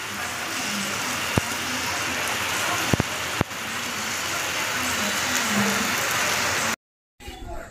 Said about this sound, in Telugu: వర్షం అయితే పడుతూనే ఉంది